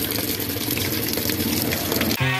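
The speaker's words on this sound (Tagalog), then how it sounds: "Bukan natin ng tubig." A Samsung washing machine fills with water: a loud, steady rush of water runs through the whole stretch, then gives way to a short tonal hum at the very end.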